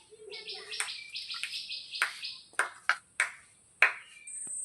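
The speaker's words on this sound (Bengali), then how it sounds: "আলুটাকে এই জলে আমি ভালো করে দু তিনবার করে ধুয়ে নেব" A potato being washed in water, with sloshing and splashing that turns into several sharp, ringing clinks against a container, close and fairly quiet over a short stretch.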